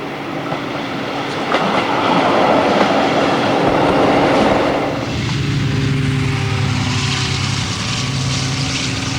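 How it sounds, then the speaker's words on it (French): X2700 RGP diesel railcars climb the 25 per 1000 grade toward the Col de la Croix-Haute, a loud sustained engine roar and rail rumble that swells and then settles into a steady drone. "Mais pas de tranquillité pour les RGP qui attaquent la rampe du col."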